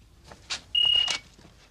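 A phone rings with a short, steady electronic tone that cuts in sharply and then stops, fairly loud over faint room sounds.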